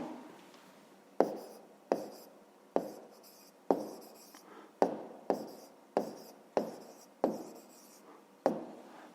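A pen strikes and scratches across paper in a run of about ten sharp, evenly spaced strokes, each tap followed by a brief fading scrawl, close and clear with no talking.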